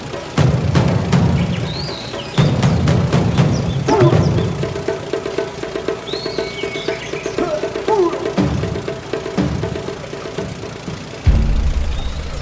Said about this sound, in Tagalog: Halos 2 oras kaming bumiyahe, sakay ng bangka.